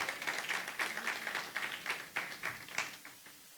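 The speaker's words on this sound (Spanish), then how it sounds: "Dale un aplauso al Señor." Scattered clapping from a church congregation during a Spanish-language sermon, moderately faint with a steady patter of hands that swells in bursts and continues for several seconds.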